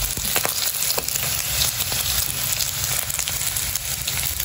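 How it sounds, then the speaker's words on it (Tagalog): Small sun-dried tilapia fry in hot oil for a breakfast cooked at a hut, giving a steady, close, loud sizzle and crackle with no talk. "Yan po, at ako po yung nagpiprito na ng ating binilad pong tilapia."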